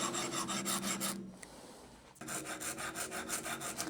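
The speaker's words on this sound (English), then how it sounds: "it's going to use a medium" A medium file rasps across a guitar nut in close, steady back-and-forth strokes, a run of rhythmic scrapes, a brief pause, then another burst of strokes.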